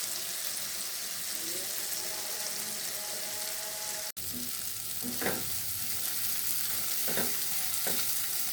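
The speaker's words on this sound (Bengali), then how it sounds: "তারপর ভালো করে মশলাটা নাড়াচাড়া দিয়ে কষিয়ে নেব।" Spice paste of chili powder and salt being stirred and fried for a mustard pabda fish curry, a steady close sizzle with a few scraping stirs of the pan in the latter half.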